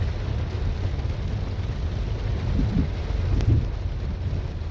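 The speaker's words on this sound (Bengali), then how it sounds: "দেখতে পাচ্ছেন জুম বৃষ্টি হচ্ছে" Rain falling on a moving car, a dense steady patter with low road and engine rumble underneath, fairly loud and continuous with no talk.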